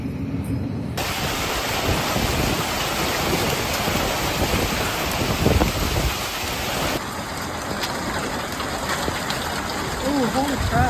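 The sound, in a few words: thunderstorm with heavy rain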